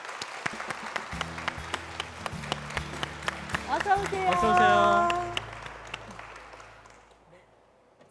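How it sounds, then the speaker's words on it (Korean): Church congregation applauding as a testimony speaker comes forward, a steady patter of clapping that swells to a peak midway and then fades, with voices speaking over it. "박수 부탁드립니다."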